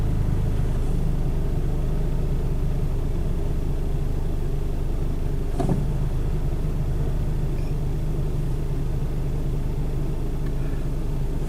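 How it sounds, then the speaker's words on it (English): A car engine idles roughly with a low, uneven rumble from a weak battery, holding steady throughout apart from one brief click partway through. "you'll hear the RPM or the engine idle get rough"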